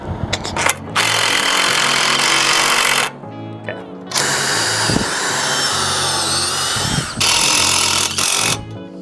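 A power drill drives self-tapping screws into a metal post in three loud, sustained bursts of whining and grinding, each lasting a few seconds, separated by brief pauses and clicks, close by with no talk.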